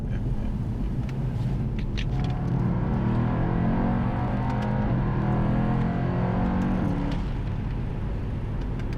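Mercedes-AMG E-Class engine in Sport Plus mode, a continuous deep rumbling roar that swells and eases over several seconds, steady and fairly loud with no speech.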